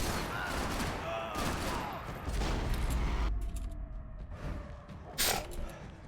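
Gunfire erupts while an enemy is shot in the video game Max Payne 3: a dense, crackling volley of shots over several seconds, with a heavier burst near the end and faint voices in the background.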